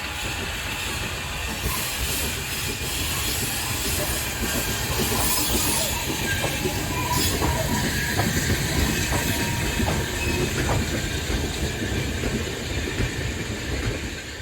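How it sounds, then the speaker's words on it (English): Steam locomotive Dora pulling away with its train on the Tanfield Railway during a steam gala, a continuous loud hiss and rumble of rolling wagons with faint rhythmic clatter, heard from beside old wagons near the line. "I stopped by the old wagons to catch Dora leave."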